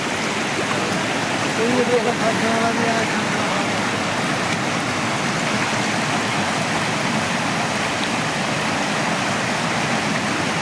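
Floodwater rushes steadily and loudly over a road after heavy rain, a constant churning torrent spilling across the surface, with a brief faint voice early on.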